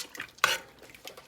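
A spoon stirring a pot of Caribbean rice and peas, a single sharp metallic scrape against the pot amid faint clinks and a soft background bubble.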